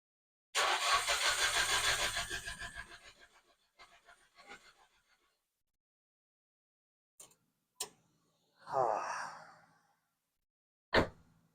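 An engine cranks and catches in a loud burst lasting a couple of seconds, then dies away, followed by scattered clicks and a brief rumble amid near silence.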